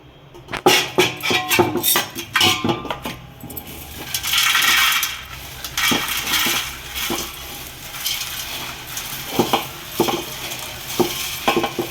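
Fried chudva ingredients such as roasted gram, peanuts and curry leaves tipped into a large bowl, giving close, loud dry rattling and clattering in bursts with sharp clinks against the bowl, no talking.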